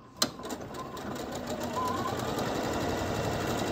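Sewing machine running a darning stitch for decorative mending, starting with a sharp click and then settling into a steady rapid whirring stitch rhythm, close and continuous.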